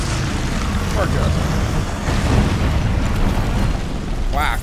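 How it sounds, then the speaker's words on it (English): A big video-game explosion from a wave gun weapon, a broad noisy blast that rumbles and crackles for several seconds, with a few short tonal effect sounds layered over it. "What an explosion"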